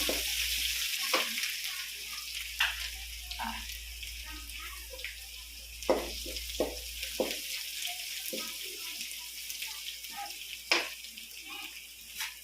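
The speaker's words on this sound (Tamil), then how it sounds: "இப்போ இஞ்சி பூண்டு வணக்கிற அளவுக்கு வதக்கி விடணும்" Ginger and garlic sautéing in a pan for an egg gravy, a soft steady sizzle under light stirring and clinks of a utensil, close by with no talking.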